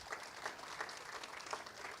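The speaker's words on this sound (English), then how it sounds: "give our panelists a round of applause" Audience applause for a panel at the close of a September 2019 Alexandria agenda session, steady clapping across the whole stretch, moderately distant and without speech.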